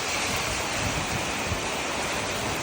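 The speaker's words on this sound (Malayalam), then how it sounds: "നല്ല വലിയ വലിയ മഴത്തുള്ളികളാണ് വീണുകൊണ്ടിരിക്കുന്നത്" Dense, steady wash of heavy night rain with large drops, a continuous broadband hiss with no pauses or voices over the short stretch.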